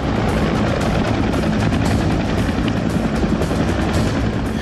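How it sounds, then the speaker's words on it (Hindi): Two Indian Navy Dhruv advanced light helicopters flying overhead, a loud, steady, continuous rotor thrum and engine roar filling the whole stretch with no voices. "आसमान में गड़गड़ाते हुए दो हेलीकॉप्टर आते हैं। ये इंडियन नेवी के एडवांस लाइट हेलीकॉप्टर ध्रुव हैं"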